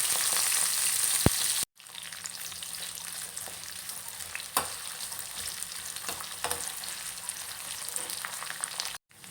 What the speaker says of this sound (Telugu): దానిలో ఆయిల్ తీసుకుని బీరకాయ వేసుకోవాలి